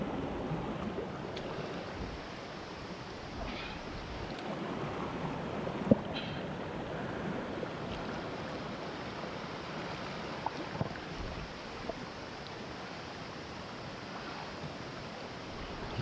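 Strong floodwater rushing through a stream during heavy rain, a dense, continuous roar with no talk over it.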